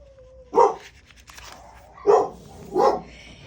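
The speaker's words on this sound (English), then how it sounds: "they're howling at the dogs, so that's gonna make them bark even more" Dogs bark at home in three separate short barks spaced about a second apart, set against a low steady background hum.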